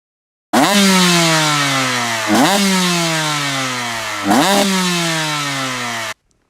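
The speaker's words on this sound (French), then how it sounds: "on va écouter le son du deux temps sur un Akrapovic" A two-stroke KTM 125 motorcycle engine with an Akrapovic exhaust revs loudly and close up in three rising pulls, each winding down before the next blip, then cuts off.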